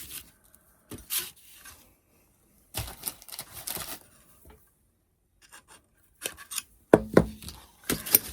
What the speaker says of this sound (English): Okay, that's a little too much wire. That will work. I'll cut a little bit of this off.